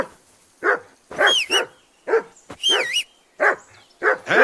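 A dog in Kingdom Come: Deliverance II barks repeatedly and close by, giving about eight sharp woofs in an uneven rhythm, some with a whining, yipping edge.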